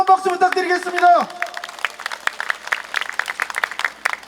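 Crowd applause at a railway union rally of electrical workers, rising after a voice speaks at the start. A scattered, moderately loud patter of many hands clapping continues on its own.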